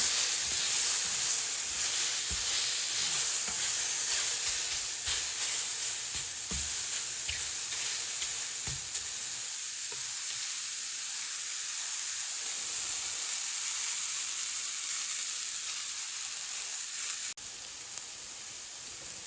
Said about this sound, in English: Continue cooking, stirring occasionally until shiitake mushrooms are tender.